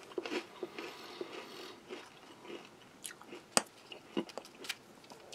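Close, crisp crunching and biting of a sweet biscuit topped with condensed milk, at an irregular pace, with a few sharper cracks standing out against quieter chewing.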